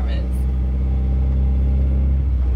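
A stick-shift car's engine rumbles steadily as a learner driver feeds it a little gas, a low continuous drone that swells slightly near the end, with voices talking over it.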